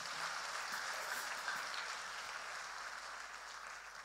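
Congregation in a church chapel clapping for a reverend, a faint, distant, even wash of applause that blurs into a rain-like hiss.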